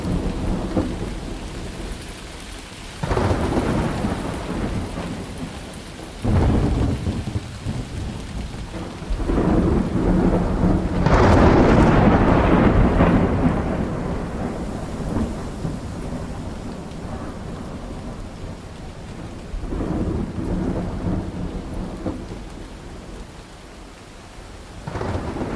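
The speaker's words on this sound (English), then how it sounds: "The approaching storm may seem violent and destructive to us, but to nature, it's a new beginning in the cycle of life." A simulated thunderstorm on a theme park boat ride: steady heavy rain with repeated loud rumbling thunderclaps, one big crash near the middle, all enveloping and close.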